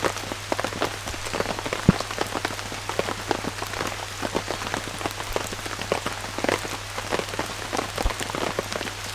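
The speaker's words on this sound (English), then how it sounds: "Rain is really settling in." Heavy rain drums steadily on a bivvy shelter out in the bush, a dense close patter of drops with a constant low hum beneath, no voices.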